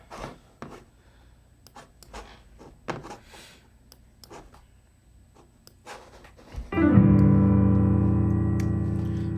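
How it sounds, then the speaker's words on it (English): Scattered clicks and taps give way to a loud sustained synth chord that rings out with a long, slowly fading reverb tail. "That reverb is crazy."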